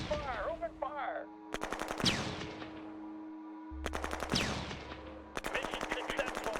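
Rapid bursts of automatic gunfire from the strategy game Shadow Empire, several loud rattling volleys separated by brief pauses, with other game effects before and between them and no talking.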